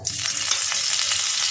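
Oil and half a spoon of butter sizzle in a hot kadai (wok), a steady close hiss with faint crackles and a light stirring scrape, with no voices.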